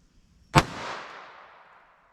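A single sharp crack from a .22 Long Rifle handgun, followed by a short echoing decay that fades over about a second and a half, with no other sounds around it.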